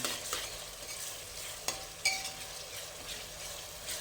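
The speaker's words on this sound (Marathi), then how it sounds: "आता हा कांदा आपण रंग बदलेपर्यंत चांगला सोनेरी रंगाचा होईपर्यंत भाजून घेऊन" Onion fries for biryani until golden, a continuous sizzle with scraping stirs of a spoon against the pan and a few sharper clinks, close and steady with no talking.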